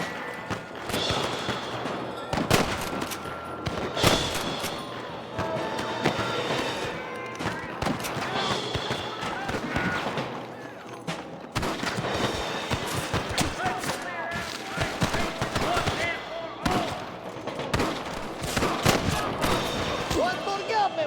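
Gunfire in Red Dead Redemption during a shootout with rustlers, repeated sharp cracks in irregular bursts, some close and some farther off, with voices talking between and over the shots.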